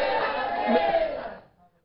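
Studio audience applause on a Hindi television news debate show: a loud, dense wash of clapping that holds steady, then fades away quickly into silence.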